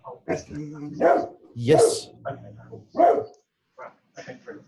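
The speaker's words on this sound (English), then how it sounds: "That's my dog in the background." A pet dog barks several times in the background, short loud woofs spread across the span, with a person briefly speaking.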